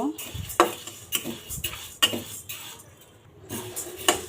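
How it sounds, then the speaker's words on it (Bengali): Repeated scraping and stirring against a metal pan as mung dal is dry-roasted, with soft sizzling beneath and sharp clinks of a utensil at irregular intervals. "এবার ডালটাকে সুন্দর করে ভেজে নেব"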